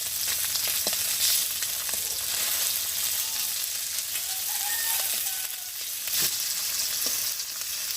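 Bata fish fries in a pan of hot oil with a steady, close sizzle that runs unbroken, punctuated by a few sharp clicks and scrapes from stirring or turning the fish.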